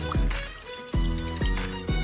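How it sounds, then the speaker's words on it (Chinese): Water poured over wild prickly pears with salt in a bowl, splashing and trickling in short close bursts with several sharp pours over about two seconds, no talk. "掺点儿凉白开"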